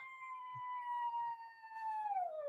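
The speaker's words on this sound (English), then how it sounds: "dog barking. That's a howl alert." A dog gives a single sustained howl, a clear tonal note gliding slowly downward toward the end, fairly close in an otherwise quiet room.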